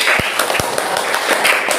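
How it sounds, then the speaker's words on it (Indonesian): Classmates in a school classroom give a group a brief, close burst of clapping. The applause is loud and short, with a couple of sharper claps standing out. "Tepuk tangan untuk kelompok"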